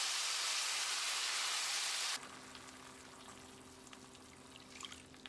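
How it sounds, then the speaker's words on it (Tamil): Tamarind water pours into a hot pan, a loud broadband rush for about two seconds, then settles into a quieter steady simmer with faint crackles. "ஒரு பெரிய நெல்லிக்காய் அளவு புளியை 1/2 கப் தண்ணியில் கரைச்சி வச்சுருக்கேன். இதை ஊற்றிடலாம்."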